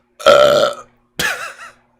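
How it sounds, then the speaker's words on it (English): A man lets out two loud, close burps in quick succession, the first longer and the second shorter, with silence between and around them. "Burp."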